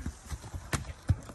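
Horse hooves thud in two or three heavy, irregular impacts against a tree outdoors, with softer low rumbles between, fairly close and loud.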